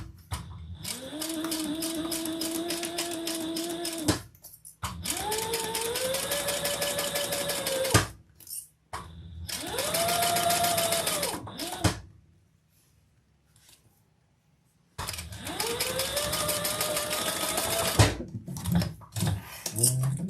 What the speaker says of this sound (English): So we're sewing both the short ends.